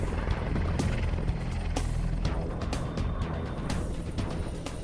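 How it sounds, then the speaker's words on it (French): AgustaWestland EH-101 helicopter, a three-engine rotorcraft, flying with a steady broadband rotor and turbine roar filling the clip, low thumping underneath and no talk. "Il s'agit du EH-101 d'Augusta-Westland."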